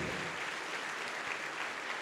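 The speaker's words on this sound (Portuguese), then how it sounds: "E vamos aplaudir ao nome de Jesus." Steady applause from a church congregation, a continuous wash of clapping at moderate distance with no breaks.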